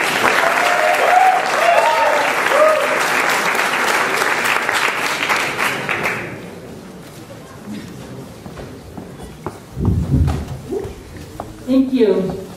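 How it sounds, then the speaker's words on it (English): Audience at a social enterprise talk in Mexico applauding a speaker, steady clapping with a few cheers for about six seconds, then fading into footsteps and light shuffling as a voice begins speaking. "Let's hear it for Daphne Leger."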